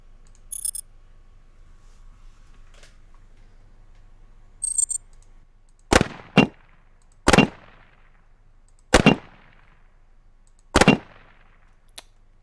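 Five sharp bullet impact sound effects play one after another in Wwise, loud and close, each a cracking hit with a short decaying tail, preceded by a couple of faint clicks.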